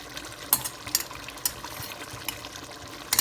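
Soaked bitter leaf water pours through a filter in a soft, continuous trickle, with small splashy drips landing at irregular moments over a quiet background.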